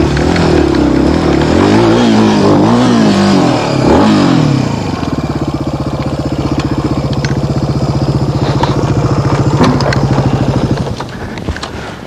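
Dirt bike engine on a wooded trail, loud and close, revving and blipping hard then settling into a steady high-revving drone before easing off at the end.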